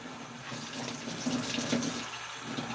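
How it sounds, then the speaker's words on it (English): Tap water runs steadily into a sink while hands are washed and rinsed of soap, a continuous close splashing rush with slight shifts as the hands move under the stream. "Actually, I'm gonna wash my hands a little bit better."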